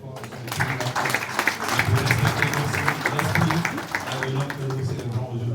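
An outdoor audience at a tribute ceremony on the Place du Souvenir Africain claps steadily for visiting ambassadors, the dense, continuous applause mixed with a voice talking over it.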